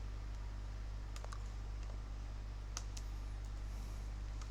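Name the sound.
typing on a computer keyboard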